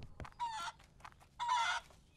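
Chickens in the Barn Finders video game cluck and crow in two loud bursts with a pause between, and no voices are heard.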